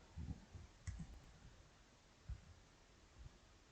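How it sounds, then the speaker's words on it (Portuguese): Computer mouse clicks sound close and quiet, with about five sharp clicks spaced unevenly over a steady background hiss. "tô clicando errado"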